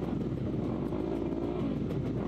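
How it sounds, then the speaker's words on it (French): Racing quad engines idle together before the start of a Super Quad final at a street circuit, a dense, steady rumble with a faint throttle blip rising briefly midway. "on entend les moteurs ronronner maintenant"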